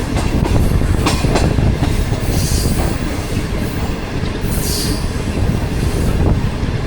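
The Pakistan Business Express passenger train, running from Karachi to Lahore, rolls along the rails with a loud, continuous rumble, rhythmic clatter from the wheels and faint squeals of wheels on track.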